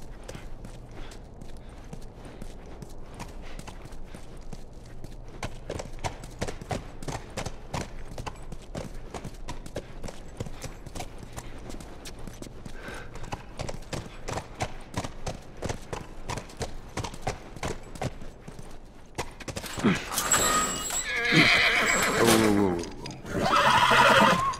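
Horse hooves clip-clop in a steady rhythm through the post-apocalyptic world of The Last of Us Remastered, with neighs and whinnies, then a louder, busier burst of sound near the end, with no talk over it.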